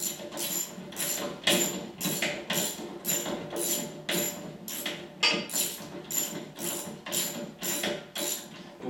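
A HYTORC Smart Stud bolt is run out by hand, making a steady series of close ratcheting clicks in short repeated bursts with no talking.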